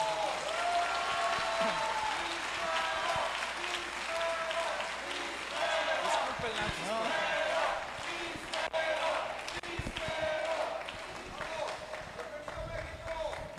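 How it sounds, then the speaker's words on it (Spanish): A congress audience applauds to welcome a priest speaker, giving sustained, fairly distant clapping beneath a continuous murmur of voices and room noise. "Recibámoslo con un fuerte aplauso,"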